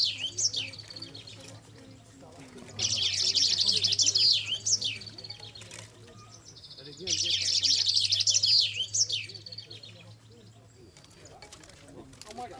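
Chaffinch song rings out in two loud, bright bursts of trilled phrases about three seconds each, separated by quieter stretches, with a low steady hum beneath and faint sounds in between.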